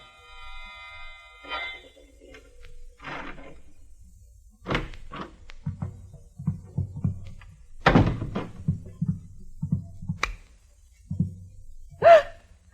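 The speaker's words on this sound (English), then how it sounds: "The sound of a key in the lock of the door." A key turning in a door lock as a radio drama sound effect, heard as a run of small, close clicks and dull thunks with brief pauses, ending in a sharp gasp.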